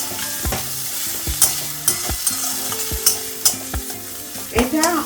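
Spice paste for potoler jhajh being fried and stirred in a pan, a steady sizzle under repeated scraping knocks of the spoon against the pan, close and fairly loud, with no talk.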